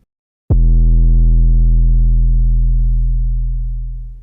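An 808 bass sample from Splice played in Logic Pro: one deep, booming sustained bass note with a sharp attack that rings out smoothly and slowly fades over about four seconds, alone and loud.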